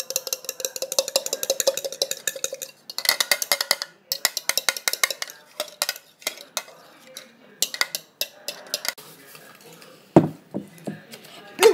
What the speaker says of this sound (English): I'm gonna whisk it.